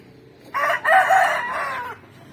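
A single rooster of the aseel breed, kept on a farm, crows once close by, a loud, clear call with a short break near the start, heard on its own with no talk.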